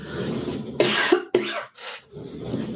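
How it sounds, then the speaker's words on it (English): A few sharp coughs burst out in quick succession, close and loud, followed by a softer throaty sound. "I'm going to cough. 1 second."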